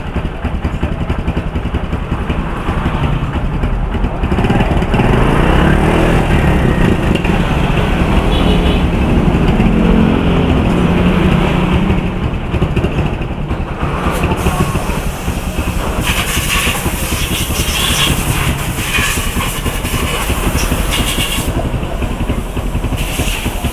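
A motorcycle engine on a tricycle at a motor shop in the Philippines starts and runs, giving a steady, loud, close rumble with a hissy edge that holds for over twenty seconds, changing a little toward the end.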